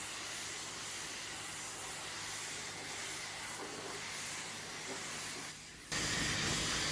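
A water spray rinses a carpet floor mat with a steady, close hiss that holds for about six seconds, dips briefly, then returns stronger. No one speaks.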